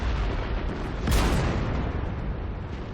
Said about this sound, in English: So right now I'm going to drop some artillery on that guy.